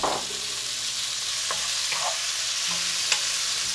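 Tomatoes dropped into hot oil with the white parts of scallions, a loud steady sizzle with a few scattered utensil scrapes and taps, close and without talk.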